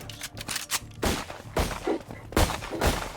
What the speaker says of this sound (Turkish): Silah sesi duymak istiyorum ajanlar.